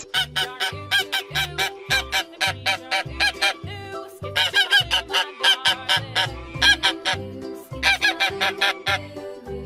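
Geese honking in loud, rhythmic bursts with a farm-animal backdrop, repeated calls forming a steady pattern of nasal honks close to the listener.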